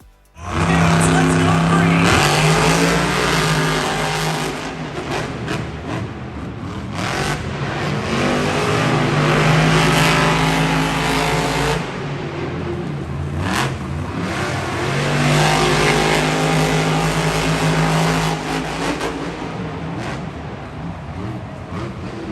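Monster trucks Grave Digger and Megalodon race at a Monster Jam arena event in London, their engines loud and revving constantly over jumps and drifting corners, with an announcer talking over the roar.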